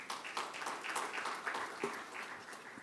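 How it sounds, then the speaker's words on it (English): An audience applauds a speaker at a biotech event, with soft, steady clapping from many hands heard from a distance for a few seconds, no voices on top. "Give a big applause to Subramani."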